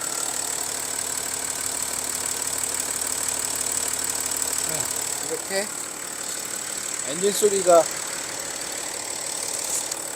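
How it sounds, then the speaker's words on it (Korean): An Audi diesel car engine idles with a steady low rumble and knocking tone, while a person speaks briefly over it partway through. "엔진 소리를 제가 한번 들려봐 드릴게요."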